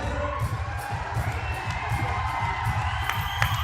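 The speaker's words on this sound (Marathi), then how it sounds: "जोरदार टाळ्या" A crowd at a village farmers' group gathering in Kawda, Kalamnuri, Hingoli cheers and claps loudly, with shouts and whoops over a steady, continuous din throughout.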